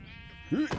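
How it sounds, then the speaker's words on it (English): A sheep in the video game Minecraft gives one short, wavering bleat near the end, clear over faint background noise. "About time we saw a sheep."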